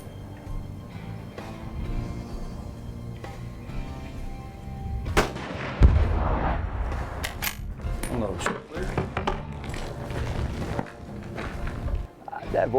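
Rifle shots ring out from a gun fitted with a Vortex scope set on 6 power, fired at Tannerite targets 100 to 150 yards away outdoors. Several sharp, booming reports land among steady background noise, and people talk throughout.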